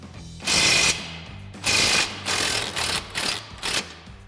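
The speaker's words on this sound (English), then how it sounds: "So next we're going to go ahead and remove our lower shock mounting bolt. So we'll grab our 18 mil socket on our impact." An impact wrench with an 18 mm socket hammers out a lower shock bolt on a 2016-2024 Camaro in several loud close rattling bursts, two longer ones followed by shorter rapid pulses.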